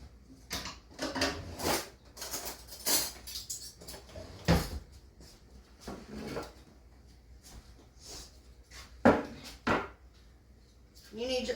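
Home kitchen rummaging for teaspoons and a baking sheet: scattered knocks, clinks and drawer or cupboard thumps, some sharp and close, separated by quiet gaps.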